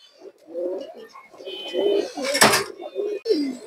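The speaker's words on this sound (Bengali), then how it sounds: "অনেক সুন্দর একটা চুইনা মাদি কবুতর" A Chuina female pigeon coos in soft, close, rolling phrases, repeated in short bursts with a sharp clattering knock partway through.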